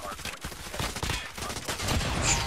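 Rapid bursts of CX9 submachine gun fire in a ranked video game match, dense and continuous over layered battle noise, with more distant shots mixed in.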